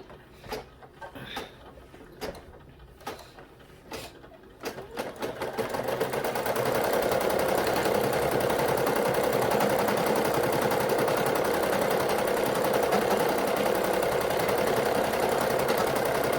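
A Brother SE 1900 embroidery machine stitches a bow outline on a onesie, first with a few sharp clacking taps, then ramping into a loud, continuous rapid chatter that runs steadily to the end, close up and alone.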